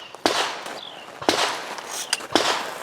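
Three loud, sharp reports from a 12 gauge sniper rifle firing slugs on a range, spaced roughly a second apart, each with a short echoing tail.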